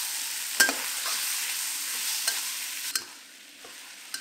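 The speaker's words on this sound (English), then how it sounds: "toss the beef and fry the other side." Beef sizzles loudly in a hot pan while it is tossed and stir-fried, with a few sharp utensil scrapes and knocks over a continuous frying hiss.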